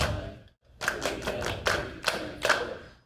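Hands clap back a simple-meter rhythm in a classroom: a quick run of about eight sharp, close claps in uneven groupings after a short pause, with no talk over them.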